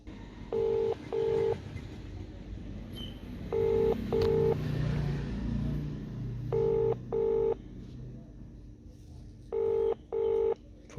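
Telephone keypad dialing on a customer call, four separate bursts of paired beeping tones spread over about eleven seconds, fairly clear over a faint background hum.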